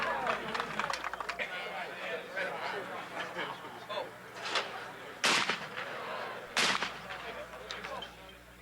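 Two sharp shotgun reports ring out at a sporting clays championship, heard under a commentator's voice amid a busy outdoor crowd murmur.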